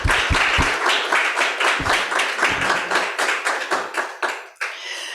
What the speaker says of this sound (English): So, okay, another applause for Carol.